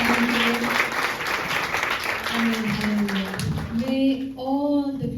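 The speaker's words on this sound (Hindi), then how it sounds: "एक जोरदार ताली बजाएंगे" Audience applause at a Sunday school seminar, steady clapping that runs throughout, mixed with a voice that carries on over it, which likely belongs to a person singing or calling out in the hall.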